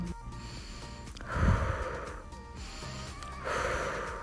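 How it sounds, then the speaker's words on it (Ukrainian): Preschool children doing a breathing exercise in a physical education class, drawing breath deeply in through the nose and blowing out through the mouth: two distinct airy breaths, the first louder and snort-like, close by with a steady room hum underneath. "Глибоко носиком вдихаємо, а ротиком видихаємо."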